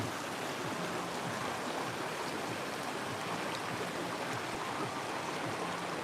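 Water from the Pathrakkadavu waterfall pours along its stream in a steady, even broadband rush that holds unchanged throughout, with no voices.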